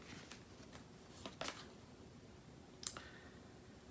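Tarot and oracle cards being shuffled by hand, giving a few quiet, scattered riffles and flicks with a sharp click at the end, close and soft, with no talking.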